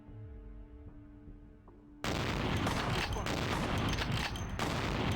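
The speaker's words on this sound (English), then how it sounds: "We got a shotgun now. Let's use it." A shotgun fires in Vampire the Masquerade: Bloodlines: after a quieter tonal stretch, a loud, dense burst of blasts erupts and keeps rattling to the end.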